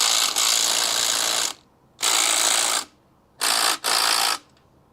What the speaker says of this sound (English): now we just gotta zap out the